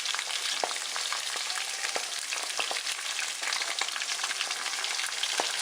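Panko crusted salmon fries in a pan with a continuous, fairly soft sizzle speckled with small pops and crackles throughout.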